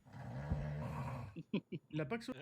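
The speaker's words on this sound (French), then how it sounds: "J'ai même pas amplifié son putain de ronflement." A recording of a man snoring loudly plays back, one long rasping snore, followed by people talking.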